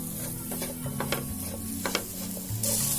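A spicy Kerala cherry pickle is stirred in a pan, giving soft sizzling and a few scattered clicks and scrapes of the spoon against the metal. Low, close and steady, with no talking.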